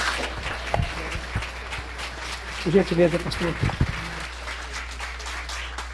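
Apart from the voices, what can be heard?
church congregation applause welcoming the reverend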